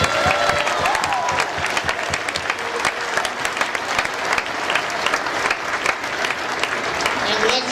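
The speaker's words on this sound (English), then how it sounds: "let's give another round of applause to the 2 rookie teams that are here today." Steady, full audience applause rings through an arena at a robotics competition opening ceremony, with scattered cheers and whoops mixed into the continuous clapping.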